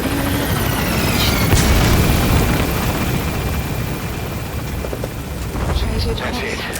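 A helicopter in Metal Gear Solid 5 lifts off from a landing zone, its rotor roar loud and steady throughout, with a radio voice speaking over the engine.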